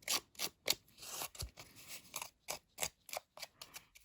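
Quiet, rapid scratchy scraping strokes in an even rhythm, close up, as scissors rough the edges of a paper card.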